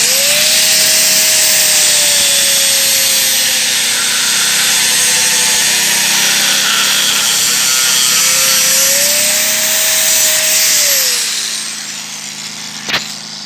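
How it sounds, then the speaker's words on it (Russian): A loud, high-pitched angle grinder, powered by a Fubog TI 2000 generator, whines steadily as it cuts through a 2 mm metal plate, running continuously before winding down near the end. "попробуем вот такую пластину болгаркой отпилить, толщина 2 миллиметра"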